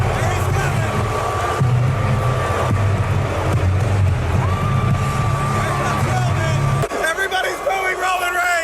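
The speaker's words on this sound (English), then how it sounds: "Everybody's booing Roman Reigns." Wrestling arena crowd booing Roman Reigns, a dense, loud, sustained roar of jeers and yells that cuts out briefly near the end before resuming.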